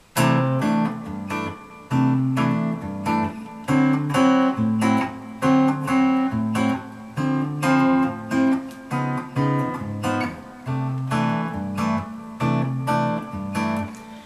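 A bossa nova chord pattern plays alone on guitar, steady syncopated strums repeating in a relaxed, even rhythm.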